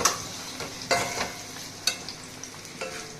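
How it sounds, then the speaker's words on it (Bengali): Spices frying in oil for tel potol, a quiet sizzle broken by several sharp scraping stirs of a spatula in the pan at irregular intervals. "তেল পটলে মশলা কষে গেছে"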